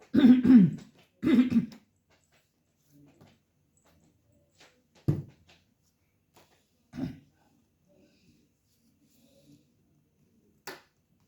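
Two sharp coughs close together, then near silence broken by a few faint knocks and clicks.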